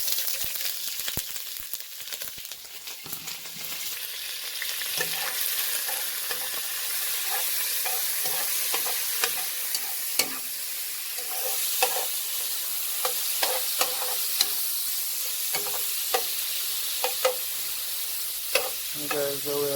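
Shrimp sautéing in butter in a hot pan for a Jamaican home-made shrimp pasta, with steady close sizzling and frying plus repeated stirring scrapes and clinks throughout, no talk.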